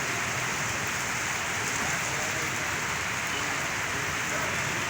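A constant downpour of rain patters and hisses nearby, even and unbroken throughout.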